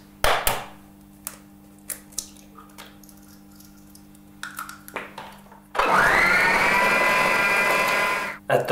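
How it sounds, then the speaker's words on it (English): Electric food mixer beating sugar and dairy-free spread for a Christmas cake, a steady whirring drone for the last few seconds after scattered clicks and knocks of kitchen handling. "get your food mixer out of storage and mix together your sugar and your dairy-free spread"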